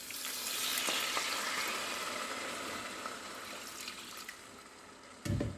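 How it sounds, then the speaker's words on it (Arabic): Cold milk hitting a hot pan for a simple dessert sets off a loud, hissing sizzle that slowly fades, ending with a brief knock of the pan. "Et maintenant je veux ajouter de lait."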